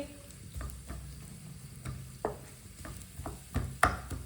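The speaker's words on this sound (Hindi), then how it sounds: "बरीक कटा हुआ प्याज, प्याज को थोड़ा सा पका लेंगे, 1 मिनट के लिए पका लेंगे" Finely chopped onions frying on medium heat in a pan, a low steady sizzle broken by occasional stirring clicks and scrapes, close and fairly quiet.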